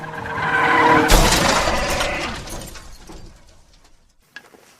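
Land speeder crashing into the Mos Eisley bar in a Star Wars video game: a rushing engine build-up then a sudden loud smash with shattering debris that decays into quiet, ending with a few faint clicks.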